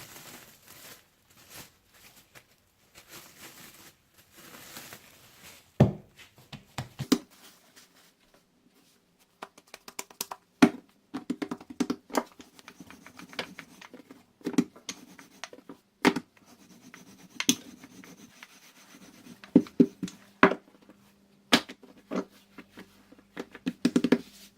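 Puff pastry dough is rolled into a rectangle on a floured working surface: soft rubbing and scraping with scattered light taps and knocks, intermittent and close, with no talking.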